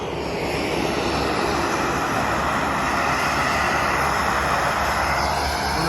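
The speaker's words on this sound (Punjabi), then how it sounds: "ਉਹ ਦੇਖੋ ਜਹਾਜ਼ ਵਾਪਸ ਆ ਗਿਆ" Loud, continuous roar of a skydiving plane's propeller engine at Empuriabrava, Spain, close by and droning steadily without a break.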